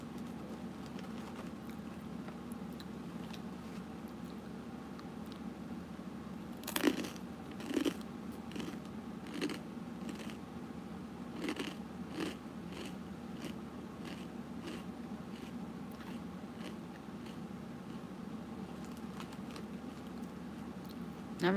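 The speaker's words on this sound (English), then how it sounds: "I'm all up in your guys' face crunching." Crunching bites of food close to the microphone, a handful of sharp crisp crunches scattered irregularly over a steady low hum, with no talk.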